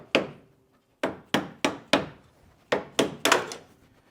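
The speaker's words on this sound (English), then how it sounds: "You just kind of pry out on it just a little bit and then tap it with a plastic hammer." A plastic hammer taps sharply at the quarter window trim of a Chevy Nova being removed, about eight crisp knocks in irregular pairs and singles, close and fairly quiet, each ringing off briefly.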